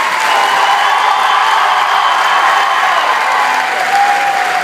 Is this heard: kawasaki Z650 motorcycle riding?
no